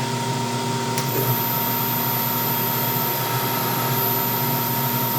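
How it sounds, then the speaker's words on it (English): A rotary phase converter powering a Bridgeport milling machine, a loud steady electrical hum and whine running evenly throughout at close range, with no talking. "Let's get that phase converter fired up."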